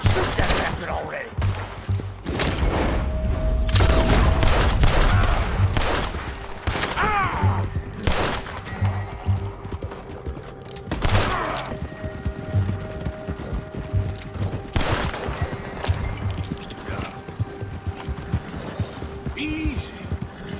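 Bursts of gunfire ring out in Red Dead Redemption 2 amid horse hooves clip-clopping, with a steady hum of game music or ambience running under the whole passage and a voice calling out at times.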